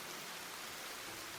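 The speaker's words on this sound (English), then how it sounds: "and then, I hear the sound of rain." Steady rain in a video game, a dense, even hiss of falling water that holds at the same level from start to finish, with no voices over it.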